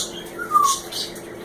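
A pet bird gives a short rising whistle followed by brief squawks, close and fairly loud, alone without talk.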